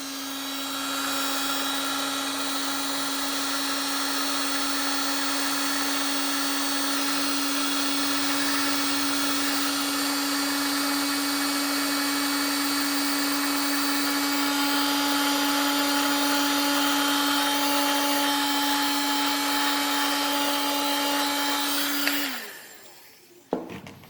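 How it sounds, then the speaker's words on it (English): A Black & Decker heat gun runs on its high setting for over twenty seconds, giving a steady, loud fan whine and airy hiss that stays even throughout, then cuts off abruptly near the end. "I'm going to use my Black & Decker heating strip. And I usually run it on high."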